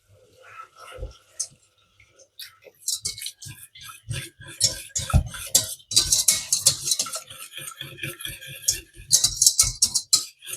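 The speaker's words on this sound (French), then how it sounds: "vous mélangez pour qu'il n'y ait pas de grumeaux" Whisk or spoon stirring milk into a flour mixture for a chicory gratin, giving a steady run of close scraping and clinking strokes against the bowl that grows busier and louder partway through.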